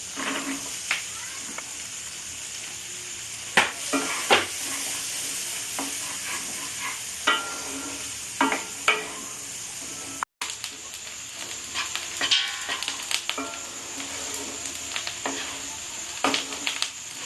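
Chopped onion and ginger frying in a pan for pav bhaji, a continuous close sizzle broken by repeated sharp scrapes and clinks of a spatula stirring against the pan, with one short gap midway.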